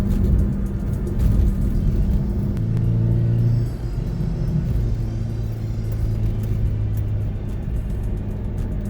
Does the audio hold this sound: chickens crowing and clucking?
no